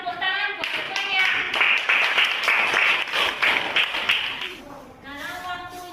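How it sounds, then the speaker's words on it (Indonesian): A classroom of students applauds their classmates, bursting into dense, close clapping that lasts around four seconds before tapering off. A voice is heard at the start and again at the end. "Tepuk tangan buat semuanya."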